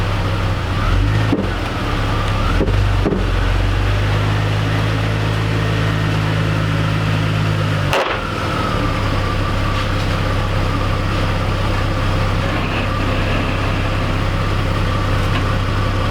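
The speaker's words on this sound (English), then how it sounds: "So I'm going to go ahead and drive around a little bit and then drive up on these ramps." Jeep Cherokee XJ engine running steadily while the vehicle drives, a continuous low hum with a brief deeper tone mid-way and a couple of short clicks or bumps, with no talking.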